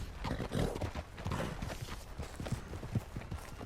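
A horse clip-clopping in Red Dead Redemption 2, a quick run of hoof falls on hard ground, close and moderately loud, with no talk over it.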